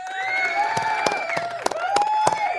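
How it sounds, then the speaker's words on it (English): A crowd cheers and whoops, with sharp claps and shouts scattered over a sustained, sung-out tone of voices. "Round of applause to Donald Trump."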